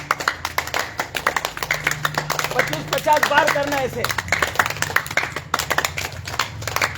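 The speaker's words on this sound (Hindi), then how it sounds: "और जोरदार ताली बजनी चाहिए।" A yoga class crowd claps in fast, steady rhythm for several seconds while someone speaks over the clapping.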